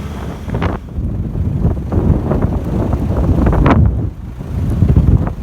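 Strong sea breeze buffets the microphone during a sandy coastal track drive near Robe. The low rumbling wind gusts are close and loud, rising and falling unevenly, with no voices.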